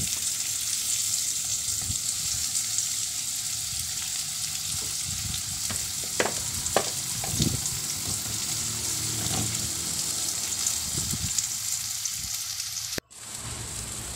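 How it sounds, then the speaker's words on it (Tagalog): Zucchini slices fry in melted butter in a pan, a steady broadband sizzle with scattered pops and crackles throughout, then a sudden brief cut near the end before the frying hiss resumes. "nilagay na natin ang butter, tapos zucchini. Slice na."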